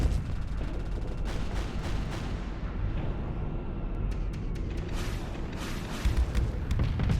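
Ships firing their guns in a video game, a dense, continuous barrage of booming shots and rumbling impacts throughout, loud and close with no voices.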